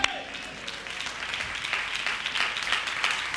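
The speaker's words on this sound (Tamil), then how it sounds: "கைதட்டுங்க பார்க்கலாம்." A church congregation at a Sunday service claps together in a steady, crowded patter of many hands, moderately loud and gradually building, with faint voices mixed in.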